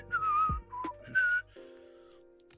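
A person whistles a short tune of several clear, sliding notes in separate phrases, close and alone, trailing into a few faint tonal sounds at the end.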